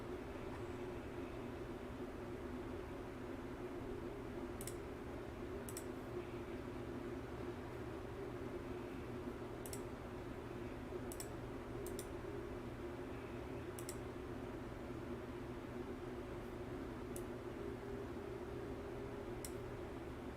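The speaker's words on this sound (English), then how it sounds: "just so that you don't hear just the white noise of the airplane" Steady, low airplane cabin white noise in a PMDG 737-800 flying in Microsoft Flight Simulator, a quiet constant hum broken by sparse faint clicks like keyboard taps.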